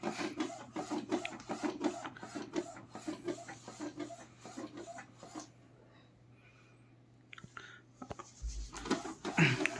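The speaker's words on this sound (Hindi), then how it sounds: "इसमें थोड़ा नॉइज़ है। रीज़न उसका ये है कि हमने एक्सटर्नल पाइप जोड़ा है जो घिसते चला जा रहा है।" Rhythmic scraping and rubbing from an external pipe dragging on an Epson L1800 DTF roll-to-roll printer module, steady repeated strokes that pause briefly near the end before resuming, close and moderately loud.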